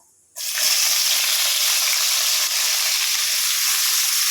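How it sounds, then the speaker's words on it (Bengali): Onions drop into hot oil with panch phoron and dried chilli, setting off a sudden loud, continuous sizzle and crackle of frying that holds steady after a brief quiet start. "তেল বসিয়ে দিয়েছি এখানে এতে পাঁচ ফোড়ন আর শুকনো লঙ্কা আছে দিয়ে দেব একটু ভেজে নেব পেঁয়াজগুলো দিয়ে দেবো"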